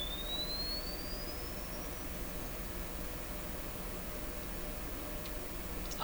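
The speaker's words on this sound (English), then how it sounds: "I think I can hear that up to 6 kilohertz." A faint rising sine sweep plays through a Sony TR712 transistor radio, climbing slowly over a couple of seconds above a steady hiss of background noise, with a few light ticks near the end.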